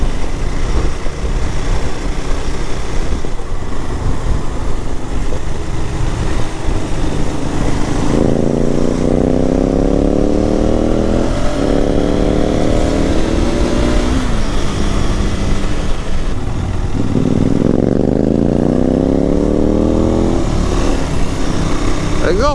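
A motorcycle engine revs up twice in sharp rising bursts, with a steady engine drone throughout and brief voices in the background.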